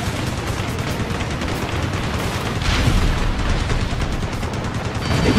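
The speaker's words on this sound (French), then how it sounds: "J'active les canons." Aircraft cannons fire during an air battle over Moscow in Ace Combat Assault Horizon, a dense, loud, continuous rattling barrage with heavy booming underneath throughout.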